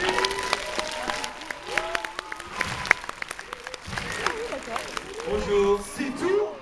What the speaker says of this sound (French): je vais me permettre de vous faire applaudir